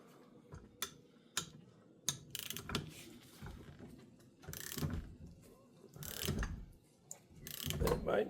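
Ratcheting clicks and mechanical ticks come from a torque wrench snugging a fork bolt on a 2008 second-generation Kawasaki KLR650 during fork seal replacement, heard in short bursts and longer ratchet runs over about eight seconds, close up with no talk.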